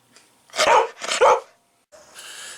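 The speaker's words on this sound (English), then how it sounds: "It's kind of ironic, me running my new intro of Stormy barking" A dog barks twice in sharp, loud, close succession, followed by a quieter trailing sound.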